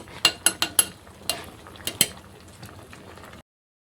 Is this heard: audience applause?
no